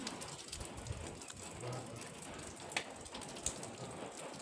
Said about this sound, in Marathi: आता बारीक बारीक मस्त एकदम म्हणजे असं मस्त पाऊस पडतो.